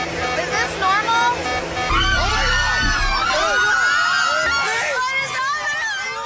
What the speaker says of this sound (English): that was Paris Hilton screaming in the background